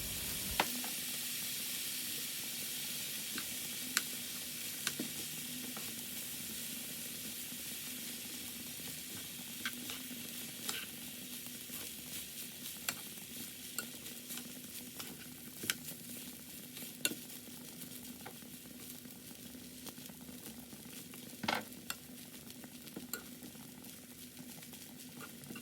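Thai-style fried rice with soy sauce is stirred in a pan, a quiet steady sizzle broken by repeated sharp clicks and scrapes of the utensil against the pan.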